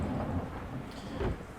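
Steady rain with low rumbling thunder in the DCS flight simulator, heard at a UH-1 helicopter before a cold start on Guam; a continuous wash of rain with rolling thunder swells through the short stretch.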